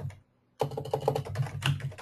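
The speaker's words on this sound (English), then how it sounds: "So let me just type it here." Keys clack on a computer keyboard after a brief pause, a close, quick run of crisp taps with an uneven rhythm and no talk.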